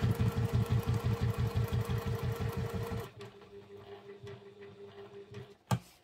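A sewing machine topstitches a leather wallet, running in a fast, steady mechanical rhythm for about three seconds, then stopping to a quieter hum and soft clicks before a sharp knock near the end.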